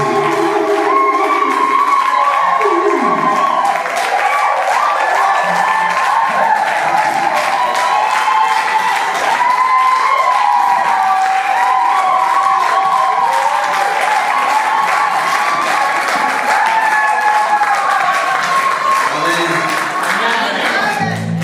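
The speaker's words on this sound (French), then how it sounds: "nous acclamons très fort pour la gloire" A church congregation claps and cheers loudly and continuously, a dense sustained wall of applause with shouts mixed in throughout.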